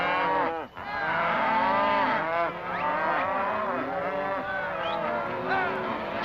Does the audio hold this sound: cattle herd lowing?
yes